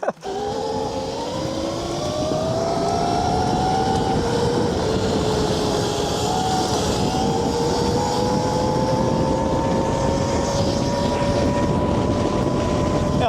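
A MotoTec KOOZ 8000W electric dirt bike rides fast, its motor giving a sustained whine that slowly rises in pitch under steady wind rush, close and continuous.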